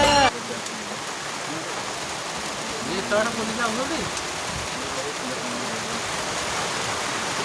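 Rain falls steadily at a hill viewpoint in Mukulingia, Kandhamal, making a dense, even hiss throughout. A faint voice is heard briefly underneath.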